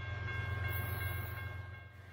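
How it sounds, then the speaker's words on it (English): Daily Lincoln to Denver freight manifest train pulling out of the yard on the freight main in Lincoln, Nebraska: a deep, steady rumble with a sustained tonal whine above it, fairly loud and close, and no voices. "Here we see the daily Lincoln and Denver manifest after just leaving the yard on the freight main."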